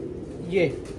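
A single soft coo from a record-holding racing pigeon, brief and fairly close, rising out of a low background murmur.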